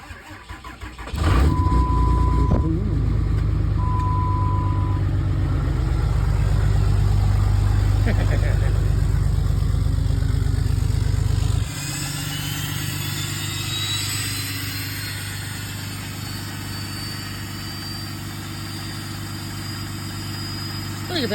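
A Dodge diesel truck cranks and fires up with its exhaust pulled off, settling into a loud, gruff close-up idle, then the engine note drops and eases into a quieter, smoother run for the remaining seconds.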